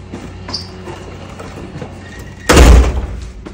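A door slams shut at a house entrance, one loud close thud with a brief rattle after a quiet stretch of faint room noise.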